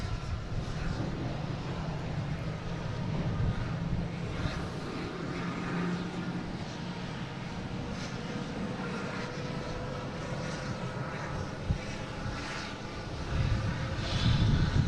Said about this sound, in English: we have a Delta coming in from Chicago. A319, flight